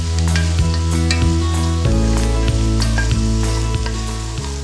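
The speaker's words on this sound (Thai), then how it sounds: "อ่าเราก็ผัดให้ขึ้นสีเล็กน้อยนะครับ" Garlic, onion, yellow and red bell peppers and zucchini sautéing in olive oil, a bright, loud, continuous sizzle with regular rhythmic scrapes and clinks of the spatula stirring the pan.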